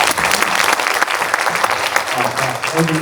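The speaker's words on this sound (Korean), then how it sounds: "자, 오하고 감정평가사님 좀 박수로 맞이해주십시오." An audience at an apartment reconstruction briefing applauds to welcome an appraiser, a dense, loud, steady clapping from a room full of people that stays strong throughout.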